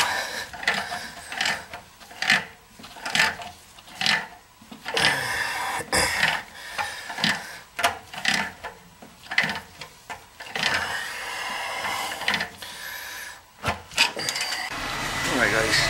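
Bursts of harsh mechanical drilling start and stop repeatedly, close by, with short pauses between runs and some low background noise, during work on an oil-fired boiler heating system.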